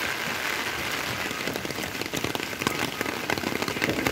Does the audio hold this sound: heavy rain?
yes